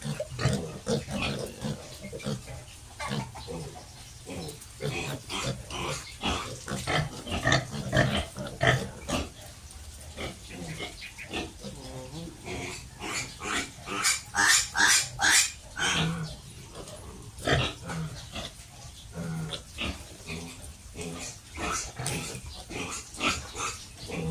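A litter of native crossbreed piglets about 19 days old grunts and squeals continuously in a pen, with dense overlapping snorts, a dog audible among them and no voices.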